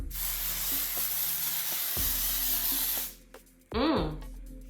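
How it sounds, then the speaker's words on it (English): A long, close spray of aerosol makeup setting spray hisses for about three seconds, followed by a pause and a short vocal exclamation. "Oh, now I like me a good aerosol spray."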